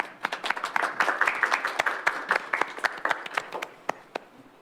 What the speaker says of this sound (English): let's all give a round of applause for Ms. Sarah